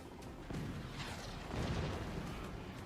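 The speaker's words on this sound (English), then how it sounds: "it's gonna be direct fire cannons, and those cannons are gonna do some work" Direct-fire cannons boom in a video game, coming through as fairly faint, muffled rumbling blasts that blur into a steady noisy wash with no clear gaps.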